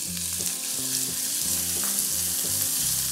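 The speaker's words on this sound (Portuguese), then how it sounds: "Na panela, um fio bem generoso de azeite e frito uma cebola pequena." A small onion frying in a generous drizzle of olive oil in a pan, a steady close sizzle with rhythmic stirring scrapes and clinks throughout, no talk.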